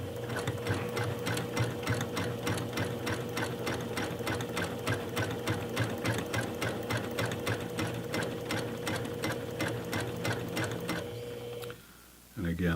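A sewing machine runs continuously, stitching and back-tacking a fabric pull tab for a makeup bag, its fast even needle rhythm close and steady before stopping briefly near the end.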